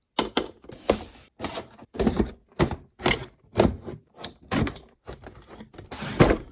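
A cardboard Bobcat construction playset box being opened by hand, with a string of sharp tearing, ripping and flap-pulling noises in quick uneven bursts, close up and with no talking.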